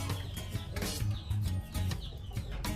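Hens clucking near a chicken coop, a dense mix of close, low, repeated clucks and murmurs layered over one another for a few seconds.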